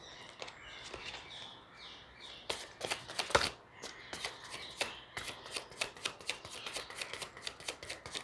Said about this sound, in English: Too many, I'll shuffle again.